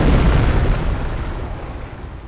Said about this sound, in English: Order the half-track to barrage the infantry with incendiary rounds again.